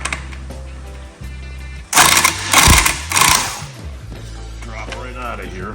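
Loud bursts of a tool loosening bolts on the differential of a 1962 Dodge Dart, two sustained rattling runs in the middle of the clip, with quieter workshop noise and a low hum before and after.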